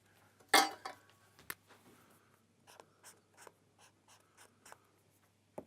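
A pen scratches on paper in short, quiet strokes, with sporadic light ticks and taps in a hushed room.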